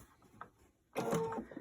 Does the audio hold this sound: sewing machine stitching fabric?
yes